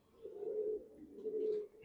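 Pigeons in a loft coo softly and close, two rounded throaty phrases one after the other with a brief pause between, in an otherwise quiet space.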